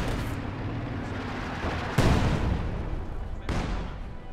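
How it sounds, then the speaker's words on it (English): SU-76 artillery barrage in a World War II strategy video game, with dense rumbling booms and sharp onsets of loud shell impacts in quick succession, heard close and continuous. "Been a lot of barrages from the SU-76 there."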